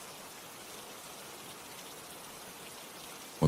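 Steady rain falling, a continuous even hiss of drops on surfaces at moderate level, with no voices, ending in a brief louder bump.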